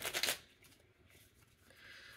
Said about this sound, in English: I will go ahead and shuffle these.